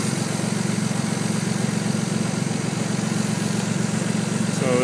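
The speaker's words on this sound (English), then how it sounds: "It seems to be idling a little high." A car engine idles slightly high, a steady close-up rumble with an even, pulsing throb that continues unchanged and fairly loud throughout, with no voices.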